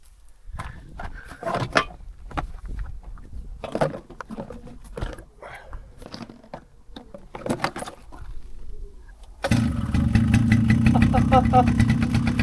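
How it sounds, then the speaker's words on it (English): A quad bike engine starts up near the end and settles into a steady, loud idle after earlier stretches of talk and handling noises. "I filmed the rest of the video getting the quad bike running"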